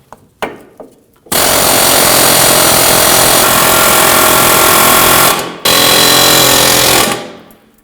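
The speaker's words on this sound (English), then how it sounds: "I'll be using an air hammer." Loud, continuous pneumatic air hammer striking hub bolts close by on a 2013-2015 Subaru XV Crosstrek front knuckle, a few short bursts first, then a long sustained rattling run with a brief pause before a final stretch.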